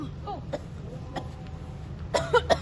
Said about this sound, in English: So you see that she's choking, and the first thing you notice is that she was clutching her throat, and you see her coughing.